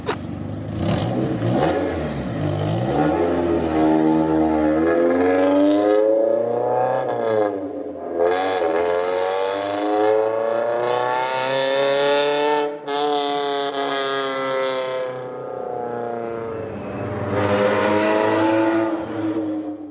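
A turbocharged 1989 Honda Civic Si exhaust revs repeatedly, the engine note climbing and falling in long sweeps, loud and close, with a rough raspy tone and no talking.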